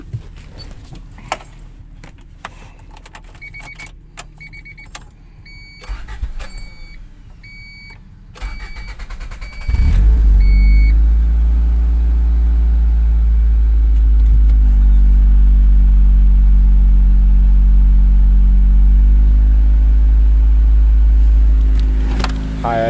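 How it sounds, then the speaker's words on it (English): A 1992 Honda Accord, just fitted with a new timing belt, water pump and IACV, cranks and catches after some faint clicks and beeps, then settles into a loud, steady, slightly high idle that holds for the rest of the clip. "And then start it up. Let's see if it still idles funny."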